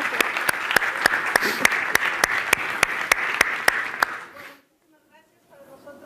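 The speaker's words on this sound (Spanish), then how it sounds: "Quiero que le den un fuerte aplauso a Mónica Rentería y a Nicolai Estrella" Conference audience at a digital banking presentation in Buenos Aires applauds the presenters, a loud, steady patter of many hands with a few sharp claps standing out, cutting off abruptly near the end into near silence and faint room sound.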